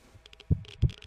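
A heartbeat sound from the ghost-hunting video game Ghost Watchers gives two deep, close thumps about a third of a second apart, with faint higher clicks around them.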